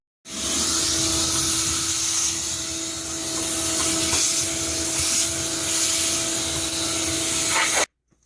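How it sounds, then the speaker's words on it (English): A vacuum cleaner runs steadily for about seven seconds, loud and close, cleaning out the filter housing and inside the case of a Whirlpool GHW9300PW4 washing machine with an F02 error, with steady tones over broadband hiss and no talk. "Also down here inside the case, vacuum it out."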